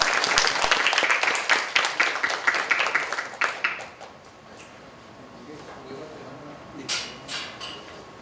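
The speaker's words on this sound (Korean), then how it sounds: "큰 박수 부탁드립니다" Audience applause at a development-cooperation forum in Suwon, a dense burst of many hands clapping for about four seconds, then tapering to scattered claps and quiet room noise.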